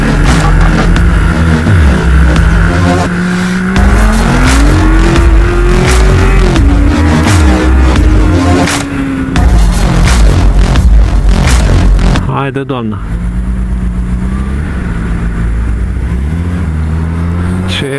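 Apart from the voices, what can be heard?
Porsche car engine revving and driving past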